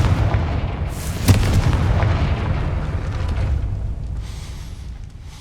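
A Confringo spell explosion in the video game Hogwarts Legacy, with a sudden deep boom that rolls into a sustained rumbling blast and slowly fades over several seconds, no talk.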